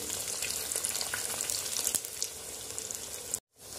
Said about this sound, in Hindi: आप इसमें एक एक करके दो तीन पूरियां डाल सकते हैं जितनी आपकी कढ़ाई में आ जाए